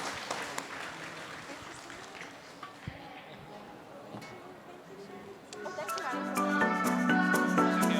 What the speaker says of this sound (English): Everyone, a round of applause to our panelists today.